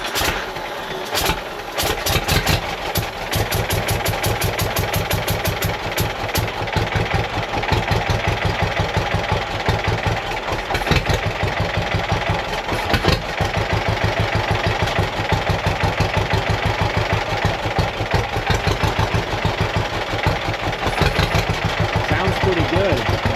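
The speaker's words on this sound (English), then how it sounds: "let's see if we can get this tractor to run for longer" A John Deere B tractor engine runs steadily after a transmission rebuild and engine refresh, its low two-cylinder chugging loud and close with rhythmic pulses throughout.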